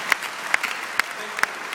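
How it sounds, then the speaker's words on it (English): Sparse audience applause for President Bill Clinton at an interview in Amsterdam: a handful of distinct, separate claps spread across under two seconds, fairly faint and unhurried. "Let me use round of applause."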